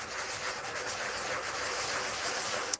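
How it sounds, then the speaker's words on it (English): A miniature base being sanded by hand, a continuous close, gritty rubbing hiss with slight rhythmic strokes, fairly quiet and steady, ending in a small tap. "it's a good thing I picked sanding a base"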